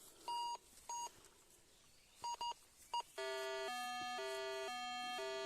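A metal detector beeping over buried iron in an overgrown field: a few short tones, then a long sustained warbling beep that steps between pitches, clear and close with no talk.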